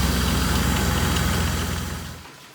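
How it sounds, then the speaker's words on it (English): The engine of a 1999 Dodge Dakota pickup truck idles just after an oil change, a steady, loud, close rumble that runs evenly and then dies away as it is switched off. "So we had the truck running."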